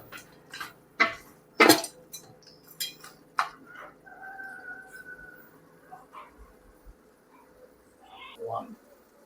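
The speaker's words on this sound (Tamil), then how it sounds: "இப்போ நம்ம போட்ட மசாலாலாம் கறியில் ஏறுற வரைக்கும் நல்லா மிக்சிங் பண்ணி விட வேண்டும்" Mutton pieces are stirred with masala in a pan for a mutton gravy, making sporadic metallic scrapes and clinks of a spoon against the pan while someone talks in the background.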